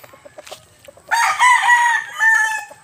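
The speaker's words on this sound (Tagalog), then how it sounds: "Mga quality yung mga manok natin dito" On a chicken farm, a rooster crows loudly and close by in a drawn-out call, with soft clucking and other farm chickens audible before it.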